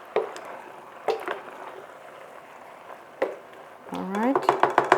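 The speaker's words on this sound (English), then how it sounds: "Give it a quick stir" Vegetables being stirred in a cooking pot, cucumbers and tomatoes for a stew: a few soft wet squishing scrapes at intervals, then a busier run of clinking and sloshing toward the end, close by.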